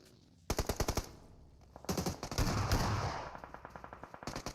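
Automatic gunfire in a battle royale video game comes in rapid, evenly spaced bursts, one tight string of shots, a denser overlapping volley, then another quick run, loud and close with no talk.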